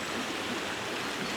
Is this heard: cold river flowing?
yes